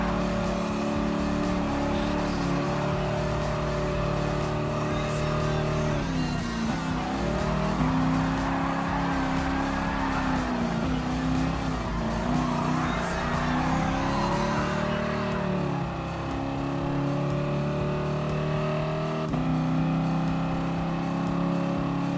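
Racing cars in the Gran Turismo Sport video game, including a Porsche and an Alfa Romeo, with a continuous loud engine drone that rises and falls through gear changes and brief tyre squeals.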